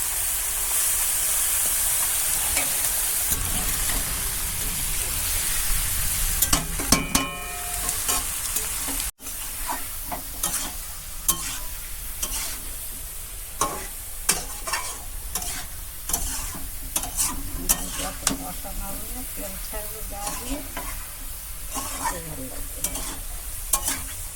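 Note shak greens frying in a pan at close range, with a steady loud sizzle and repeated stirring and scraping clatter throughout; a brief dropout midway, then sizzling and stirring carry on.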